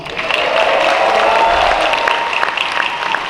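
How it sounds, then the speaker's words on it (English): An audience at an opening ceremony breaks into loud, dense applause, a sustained wash of clapping from many hands. "Big round of applause."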